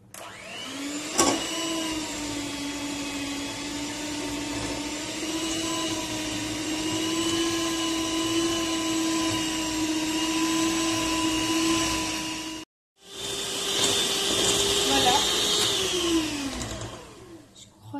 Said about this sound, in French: je vais m'occuper de la crème et je vais la fouetter avec le mixeur pour qu'elle devienne bien épaisse